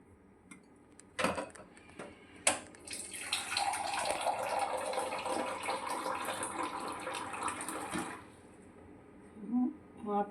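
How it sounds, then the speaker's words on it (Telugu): Half a glass of water pours from a glass into a cooking pot of tamarind-based okra rasam, a steady splashing pour lasting several seconds, with a few clinks of kitchenware before it. "ఇంకా హాఫ్ గ్లాస్ వాటర్ పోస్తున్నాను"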